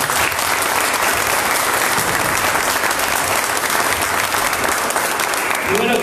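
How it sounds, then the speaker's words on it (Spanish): A church congregation claps in praise during a service, producing sustained, loud, dense applause that runs the full length, with a few voices faintly mixed in toward the end. "Denle un aplauso al Señor."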